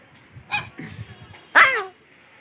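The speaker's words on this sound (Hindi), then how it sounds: "ये भी भौंकता है" A street puppy barks in short yips, two or three quick near barks followed by one louder, longer bark, with faint whimpering between.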